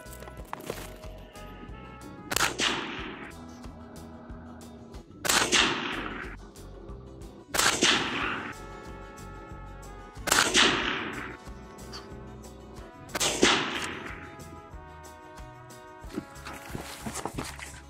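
Five sharp rifle shots of 68 grain Minuteman .223 ammunition with Hornady Match AMP projectiles ring out from a suppressed precision rifle, evenly spaced a few seconds apart, each a loud crack with a decaying tail, quiet between.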